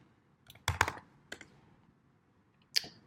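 A few quiet keystrokes on a computer keyboard: a short cluster of quick taps, then a single tap and a final clack, close but soft against a near-silent room.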